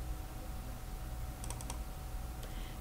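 Keys tapped on a computer keyboard in a few quick clusters of clicks, faint over a steady room hum, entering a plus sign into an Access expression field.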